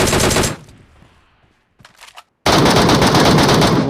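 Automatic gunfire rattles in PUBG Mobile, a video game, loud rapid bursts opening and closing the moment, separated by a near-silent gap with a few faint shots.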